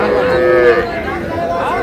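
Three-month-old bull calves moo loudly and close by at a cattle market in Kushtia, one long drawn-out bellow with faint crowd murmur behind it.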